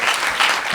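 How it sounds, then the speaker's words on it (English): Audience applause at an opening ceremony of a Nigerian women engineers' conference, a dense steady wash of clapping throughout the short moment with no voices above it. "Can we applaud our men, please?"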